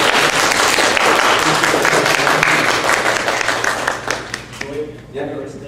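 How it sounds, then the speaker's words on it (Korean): A church congregation gives welcome applause, a loud, dense burst of many hands clapping that gradually thins and fades, with a voice speaking over the tail end. "우리 웰컴으로 박수를 한번 해주세요."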